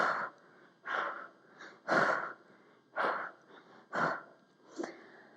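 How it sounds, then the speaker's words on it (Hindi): During a side-to-side home workout exercise, a person breathes out and in audibly in a steady rhythm of about six close, breathy bursts, roughly one per second, with no speech. "जब साइड में जाएंगे तो अपना सांस छोड़ना है, और मिडिल में जब यहाँ पे आते हैं तो सांस भरना है।"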